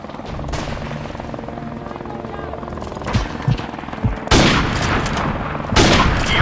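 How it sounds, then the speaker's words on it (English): A helicopter drones steadily throughout, with bursts of gunfire and booming impacts joining in over the last few seconds, in a military combat setting. "Helicopter inbound."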